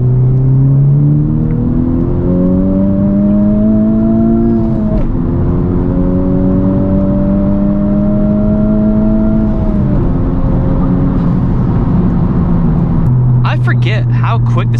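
A 2021 Honda Civic Type R accelerates hard, its engine note climbing steadily through two gear changes as a loud, close in-cabin drone, with a brief rattle near the end.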